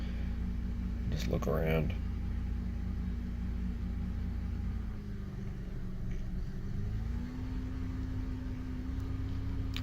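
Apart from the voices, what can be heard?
2005 Honda Odyssey engine held just over 1,000 RPM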